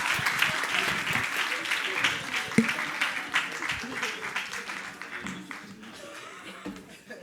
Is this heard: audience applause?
yes